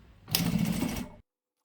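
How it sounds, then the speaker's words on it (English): Sewing machine stitching vinyl pieces with a quarter-inch seam, a single close burst of steady whirring stitching lasting about a second before stopping abruptly into silence. "So I will place them all right side together and stitch them with a 1/4 inch seam allowance."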